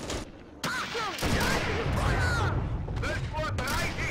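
Anti-tank gun fire in the WWII tank game Steel Fury Kharkov 1942: a couple of sharp, heavy booms rolling into a rumbling battlefield backdrop, with someone talking over the action.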